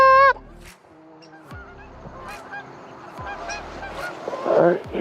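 Geese honking as they fly over a pond during an early-season goose hunt in Ohio: a clear honk opens, scattered calls follow, and a louder, denser cluster of honks builds near the end.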